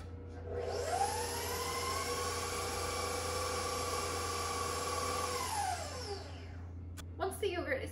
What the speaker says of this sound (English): turn the mixer on low and mix that in